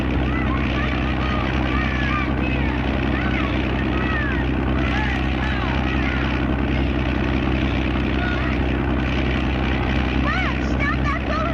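A propeller airplane drones steadily in flight, its low engine hum constant and loud throughout while voices talk over it.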